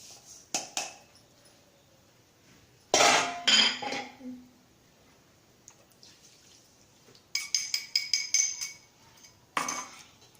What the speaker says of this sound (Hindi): अब मैं इस सब चीज़ों को कढ़ाई में मिक्स करूँगी